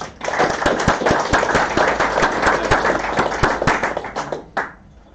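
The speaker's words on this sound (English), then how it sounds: "a quick round of applause" A crowd at a motor club awards night claps for several seconds in dense, steady applause with a few sharper individual claps, then tapers off to a last lone clap and quiet.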